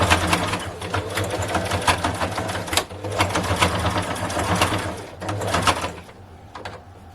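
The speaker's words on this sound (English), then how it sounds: "You connect this side, you do the same stitching, you double stitch," A sewing machine stitching elastic onto a face mask, its steady rapid mechanical whirring running continuously with brief pauses, close and fairly loud.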